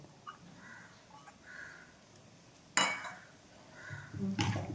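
Pork vindaloo is stirred and mixed in a pot. A utensil scrapes and knocks against the metal in scattered clinks, with one sharp clang near the middle and a busier rattle at the end.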